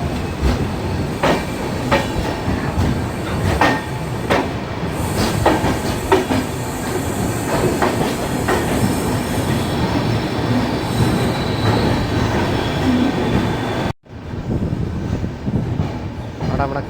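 The Cholan Express runs on the Chennai Egmore–Tiruchirappalli main line, a loud steady rumble of wheels on rails with rhythmic clicks and a faint high squeal. A sharp dropout near the end briefly cuts the din.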